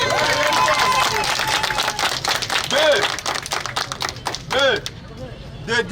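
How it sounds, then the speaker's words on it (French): Protesters at a demonstration applaud themselves in scattered, uneven bursts of clapping, mixed with shouting voices and crowd chatter close by. "Applaudissez pour vous-même."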